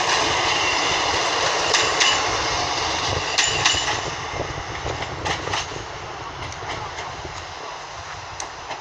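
A Class 153 diesel unit, 153.306, pulls into Norwich station with a rumbling engine and rolling wheels, followed by rhythmic clicks and light squeals as it slows, steady and close before quieting.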